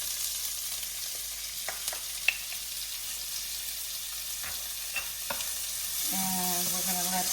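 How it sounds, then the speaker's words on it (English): Pearl onions sautéing in the same pan used for Tuscan chicken, a steady faint sizzle with occasional stirring clicks, ending with a brief tonal hum. "in the same pan, we're going to add the onions"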